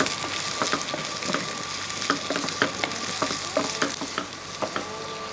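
Sliced onions fry and are stirred in a pan of oil, a steady close sizzle broken by repeated scraping clicks of the spoon, with no talk.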